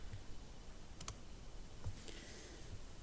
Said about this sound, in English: I need to type those in here.